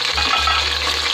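Ten small green chilies, slit down the centre, drop into hot oil with browned onions for pulao, sending up a close, steady, loud sizzle over a low hum.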